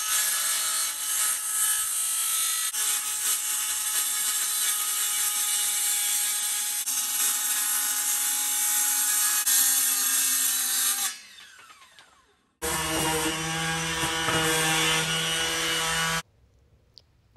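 Wood being cut for a DIY pull-out camping table for an SUV, a steady loud saw-like rasp running continuously for about eleven seconds, a brief drop, then another sustained burst of cutting.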